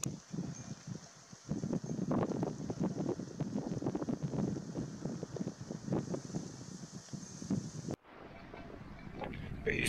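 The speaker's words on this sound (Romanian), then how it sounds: "chiar dacă bate vântul ăsta" Gusty wind buffets the microphone across open autumn steppe countryside in Ialomița, a loud continuous roar with rumbling bursts that drops out briefly near the end before rising again.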